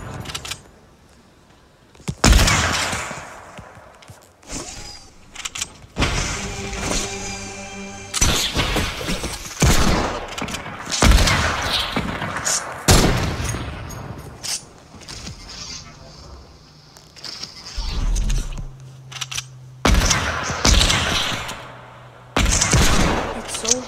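Sniper rifle shots and impacts in a creative no-scope video game map, sharp bursts scattered irregularly across a busy stretch with voices talking among them.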